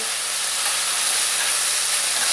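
Wine cooking down into the browned fond of a hot pan for wine-braised riblets, a loud steady hiss and sizzle running unbroken throughout.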